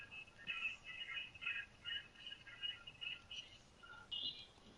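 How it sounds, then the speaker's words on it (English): A phone rings nearby during a live PS4 game broadcast, a faint repeated electronic trill in short bursts, low under the game audio. "Somebody phone ringing or something, bro?"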